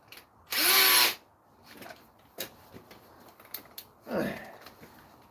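A power drill bores into a workpiece in two loud, close bursts, one near the start and one near the end, separated by clattering and tapping handling sounds.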